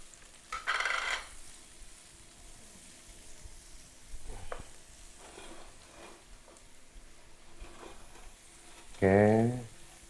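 Garlic and shallots fry in a pan during home noodle cooking, a soft continuous sizzle with occasional stirring scrapes and a brief louder clatter near the end, fairly quiet throughout.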